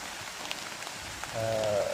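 Steady rain patters on a surface with a soft, even hiss, joined near the end by a faint tonal whine.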